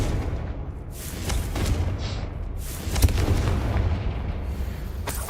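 A Confringo fire spell explodes in Hogwarts Legacy while exploring a cavern: heavy rumbling booms roll through the whole stretch, with a sharper blast hitting about midway, loud and close with no talking.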